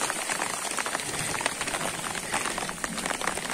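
Heavy rain in Ceará, a dense, constant hiss of falling water close by, steady and loud throughout with no pauses.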